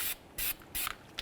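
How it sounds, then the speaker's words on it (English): Three short bursts of hissing spray from an aerosol can of copper anti-seize onto a car brake hub, close and fairly quiet, with brief pauses between them. "Now let's spray down the hub mating surface with some copper never sees."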